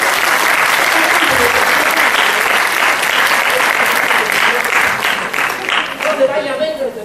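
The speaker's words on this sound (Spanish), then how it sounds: "Un aplauso." Sustained audience applause fills the hall at a psychotherapy conference in a general hospital, dense and steady for several seconds before thinning slightly at the end.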